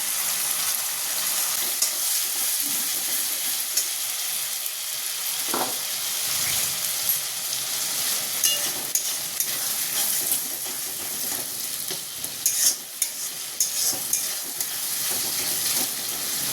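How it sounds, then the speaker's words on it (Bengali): Spice paste of ground onion, ginger, garlic, tomato, green chilli, cashew and raisin fries and is stirred in a pan for potol dorma, a steady close sizzle with occasional scraping stirs throughout. "মশলাটা ভালো করে কষিয়ে নেবো"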